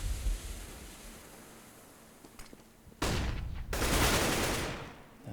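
Counter-Strike: Global Offensive gunfire: loud, abrupt scout sniper rifle shots and a burst of firing cut in sharply over a quieter stretch of background game noise.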